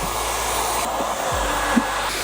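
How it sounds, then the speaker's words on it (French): Dreame V20 Pro cordless vacuum cleaner working over a car interior, a steady close whirring motor drone with a brief bump in pitch as it passes over debris, no talking. "Ah, il aspire de la poussière, on l'entend passer là."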